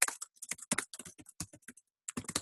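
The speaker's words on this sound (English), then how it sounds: "I'll type it and then I'll tell you" Quick bursts of keystrokes on a computer keyboard, close and crisp, tapping in uneven clusters with a brief pause before a final flurry.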